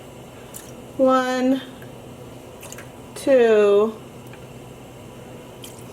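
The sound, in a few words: vinegar being poured into a dye pot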